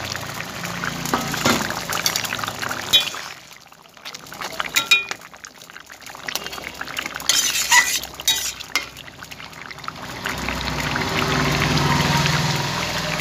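Fish goes into a simmering curry with taro stems: a utensil clinks and scrapes, liquid splashes and stirs, then the pot settles into a steady bubbling sizzle, all fairly close with no talking.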